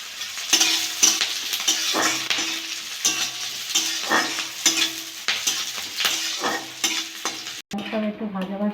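Green chillies and onions fry in a wok after whole cumin, giving a steady close sizzle broken by repeated stirring scrapes for about eight seconds, then a brief change to a quieter, different texture at the end.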